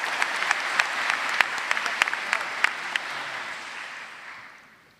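Applause from the audience at a 2024 graduation ceremony, a dense wash of clapping with a few sharper individual claps standing out, fading away over the last second.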